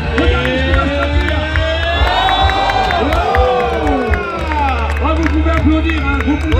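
A loud trackside crowd cheers at a classic motocross race in Lorraine, with shouts, whistles and scattered clapping. Voices overlap continuously above a steady low rumble.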